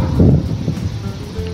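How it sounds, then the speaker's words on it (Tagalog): Loud, steady wind roars and buffets the microphone, with a brief rustle early on and no voices. "malakas na yung hangin"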